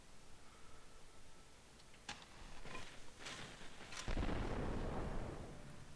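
Naval battle gunfire in the strategy game Victoria II: several sharp cannon booms and explosions, then a heavier rumbling burst of gunfire that carries on to the end, over a steady background of game noise.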